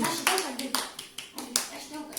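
Several sharp hand claps by a small child at an uneven pace, mixed with a voice talking and singing a Georgian children's song nearby.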